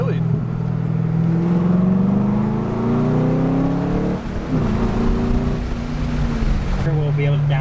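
A C5 Corvette with a modified exhaust revs close by, its engine note rising and falling in a throaty drone, with a few sharp crackles between the revs.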